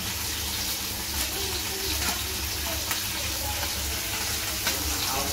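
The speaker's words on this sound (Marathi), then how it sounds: "उकळी यायला सुरुवात झाली आहे." A pot of curry with mango and kokum comes to a boil in a home kitchen, giving a steady bubbling, sizzling wash throughout with a few small pops and no break in the sound.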